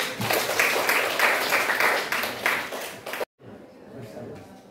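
Students in a classroom clap together in a brisk burst of applause that cuts off abruptly, followed by quieter room noise and some talking.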